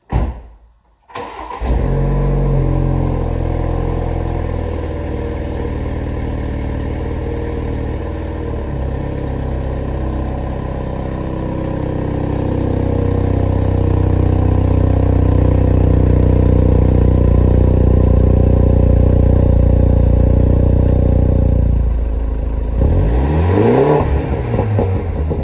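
BMW G30 530i with the B48 engine, Dinan tuned, starting up: a brief crank catches into a strong, steady idle that stays loud and close, swelling slightly later before a short rise near the end.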